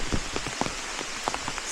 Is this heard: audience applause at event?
no